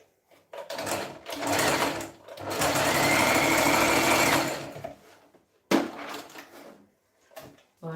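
A sewing machine stitches a folded fabric hem in bursts, with a short run, a long steady whirring stretch and a brief final spurt, separated by quiet pauses and small handling clicks, heard close up.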